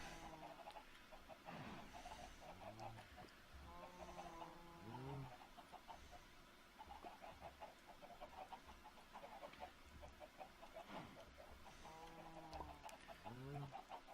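Chickens clucking in the video game Minecraft, a series of short, quiet clucks and squawks repeating every few seconds over soft background ambience.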